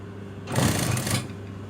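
A sewing machine stitches small close stitches to seal an unpicked opening in a dress. It runs as a loud continuous buzz for under a second and then stops, over a steady low hum. No talking.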